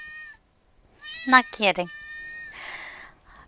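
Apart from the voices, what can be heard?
kitten meowing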